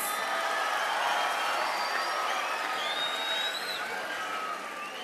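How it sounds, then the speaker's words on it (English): An audience at an inauguration ceremony breaks into sustained applause, dense steady clapping mixed with cheers and a few whoops, loud and continuous for five seconds before easing slightly. "Let me hear the applause."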